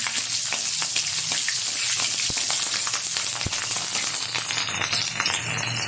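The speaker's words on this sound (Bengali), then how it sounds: "এখন এই তেলে দিয়ে দেবো কিছুটা গোটা জিরে ফোড়ন, দিয়ে দিচ্ছি কেটে রাখা 4 থেকে 5টা কাঁচা লঙ্কা" Whole cumin seeds and four or five chopped green chilies hitting hot oil for a country-chicken curry, giving a dense crackling sizzle that holds steady, with a couple of sharp spatula taps, close and fairly loud.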